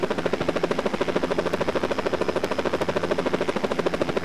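A helicopter in a video game drones with a steady, rapid rotor chop that pulses evenly and continuously at a moderate level, with no voices.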